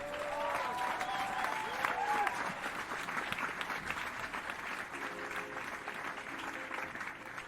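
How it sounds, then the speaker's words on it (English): Enthusiastic applause and clapping from a crowd, steady and sustained, with a few voices calling out over it. "Everybody give a round of applause."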